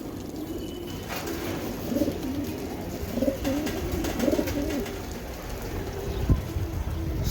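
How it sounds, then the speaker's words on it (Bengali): A pair of racing pigeons coo softly and repeatedly at close range, low burbling calls in short bursts over a faint steady background hiss. "এই এক পেয়ার কবুতর"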